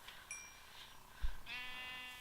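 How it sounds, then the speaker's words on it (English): Sheep in the Minecraft video game bleat twice, a short call followed by a longer, wavering one, clear and fairly close over a faint steady background. "Let's also get some sheep for wool."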